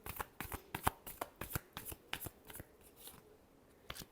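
A deck of tarot cards is shuffled close up, giving a series of quick, soft riffling bursts in an uneven rhythm that trail off near the end.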